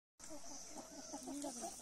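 Several chickens cluck together in a crowded poultry shop, a short, close burst of overlapping clucks and soft squawks lasting under two seconds.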